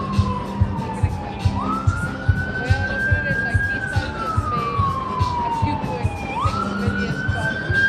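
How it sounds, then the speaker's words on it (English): Emergency vehicle sirens wail on a Las Vegas street, rising and falling in long sweeps that swoop up sharply twice, loud and steady over a busy background of traffic and faint voices. "Sirens are messing it up."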